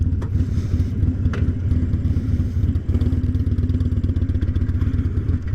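Motorcycle engine running close by with a steady, rapid idling pulse and light mechanical clatter, alone with no talking, as the rider sets off.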